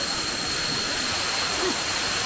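A waterfall on Koh Samui, Thailand, roars as a steady, broadband rush of falling water, loud and continuous throughout with no pauses.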